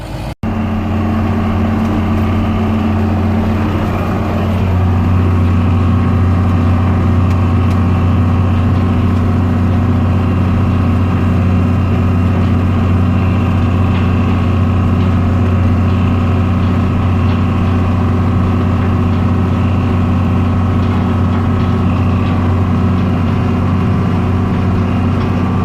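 A John Deere 4640 tractor engine idles steadily while warming up, a loud, constant low rumble with a deep droning hum that holds unchanged throughout, with no voices.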